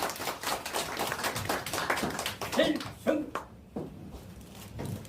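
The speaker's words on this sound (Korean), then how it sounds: "큰 박수 한 번 부탁드리겠습니다." An audience at an association's inaugural general meeting claps in brisk, irregular bursts while someone speaks over it. The applause thins out toward the end.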